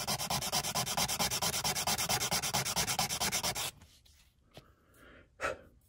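A section of a body part is sanded by hand, with rapid, regular back-and-forth rasping strokes close up for several seconds, then it stops, leaving quiet room sound and a couple of faint knocks.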